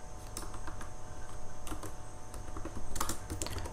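Quick, irregular clatter of keys on a computer keyboard as Python code for a text-to-speech script is typed, a close, steady stream of clicks with a brief busier burst near the end and no talking.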